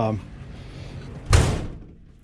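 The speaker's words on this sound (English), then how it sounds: "door shut" An RV door in a Gulfstream camper under floor repair swings shut with a single loud, close slam, its thud ringing briefly before fading into room noise.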